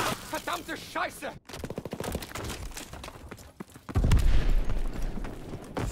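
Call of Duty: WWII multiplayer on the Valkyrie map: rapid automatic gunfire in tight bursts, with a short gap partway through, then a heavy booming artillery rumble that swells up and holds, loud and close.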